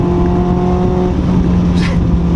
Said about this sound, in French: Écraser cette pédale d'accélérateur, écoutez ça.